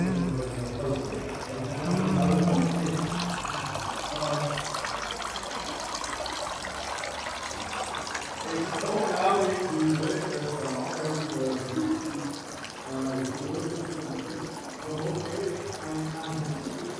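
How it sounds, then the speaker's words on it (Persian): Holy water runs from a fountain at St. Wolfgang by the Wolfgangsee in Austria, a continuous splashing trickle and pour close by that swells and eases over time, with faint voices in the background. "آب متبرکه ها"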